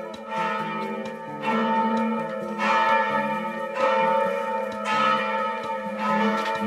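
Church bells in Grudziądz, Poland ring repeatedly in a steady, overlapping peal, loud and resonant, with no voices.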